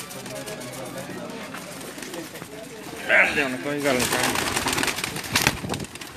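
Soft, repeated cooing of pigeons comes through, mixed with nearby talk and some rustling.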